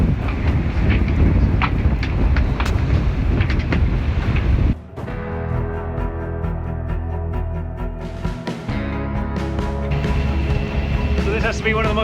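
Strong wind roaring across a sailboat microphone off Colombia's Caribbean coast during a lightning storm, a loud continuous buffeting that drops abruptly midway and then returns as a steady rushing, with water noise beneath.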